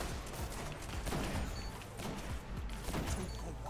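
The Universal Remote shotgun fires in Destiny during an Iron Banner match: loud, close blasts in quick succession, with game effects clattering around them.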